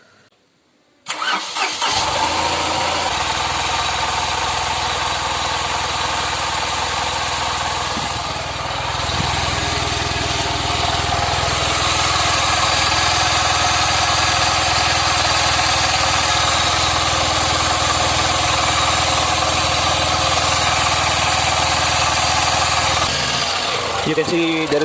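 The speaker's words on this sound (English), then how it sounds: "You can see there is too much vibration in the engine because I have kept the engine RPM as very less" A Tata Nano engine, fitted with a new alternator belt, turns over and settles into a rough low-RPM idle with heavy vibration. Its steady, loud mechanical drone runs almost unbroken for over twenty seconds, close to the microphone.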